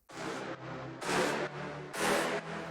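A bright, wide synth stab sample from an electronic dance drop, struck in a quick pattern of five hits alternating longer, fuller chords with slightly softer ones, loud and alone.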